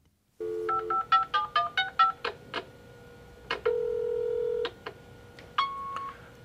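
A telephone answering machine plays a series of short electronic dial-style beeps, then a longer held tone and a final beep, clear and isolated against silence.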